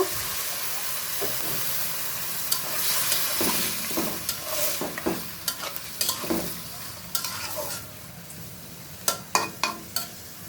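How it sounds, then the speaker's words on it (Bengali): Water added to mixed vegetables cooking with mustard in a pan, a hissing sizzle followed by scraping stirs and sharp clacks of a spoon against the pan, close and moderately loud. "সবজিতে একটু জল দিয়ে দিব"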